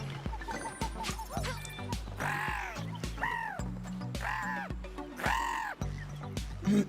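Angry bird cawing in Super Lucky's Tale, a video game, four loud harsh caws spaced across the clip over bouncy game music and clattering effects.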